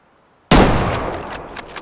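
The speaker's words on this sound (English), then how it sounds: "I have to shoot another one laying down" A single sharp, loud rifle shot fired at a mule deer in the hunting video game Way of the Hunter, bursting out of near silence and trailing off in a long reverberant tail.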